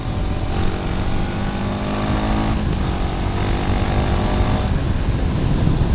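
A Honda Winner X motorcycle on a chill ride hums with a steady engine drone, mixed with wind noise and the rush of the road, fairly loud and continuous with no talking.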